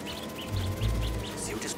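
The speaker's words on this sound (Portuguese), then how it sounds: "Eu tenho que espantar esse pássaro pra ele voltar pro lugar de onde veio." A bird in the Spider-Man 2 video game, disturbed by a drone, gives a string of short, evenly spaced chirps over a steady game ambience with low rumbling swells.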